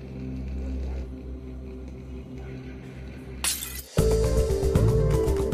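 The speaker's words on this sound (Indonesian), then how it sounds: "Jimmy hanya memecahkan gelas dan pergi." Glass smashing in a dramatic Indian-Malaysian film scene: a sudden sharp shatter with crashing fragments cuts in after a low rumbling background, followed by loud continuing clatter and noise.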